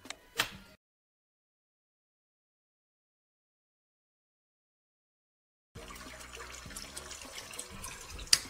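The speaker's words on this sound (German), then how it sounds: "du wirst das Ei eigentlich frittieren, sodass du die Ränder des Eis etwas knusprig bekommst" Egg frying in hot oil for Nasi Goreng, a steady crackling sizzle that starts after a long silence and carries on close and fairly loud to the end.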